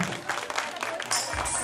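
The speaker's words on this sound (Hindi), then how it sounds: "इनके लिए भी जोरदार जोरदार तालियां होनी चाहिए।" Applause from the crowd at a Durga Puja festival event in Dibrugarh, a dense, continuous clatter of clapping over a couple of seconds.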